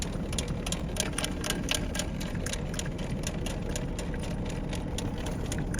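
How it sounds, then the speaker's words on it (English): Cranking the jack on an Arkto C10 camper trailer outdoors, a steady run of quick ratcheting clicks repeating at an even pace, close and continuous for several seconds with no talking. "so we're ready to continue cranking the trailer up and get it uncoupled from the yoke on the tow vehicle"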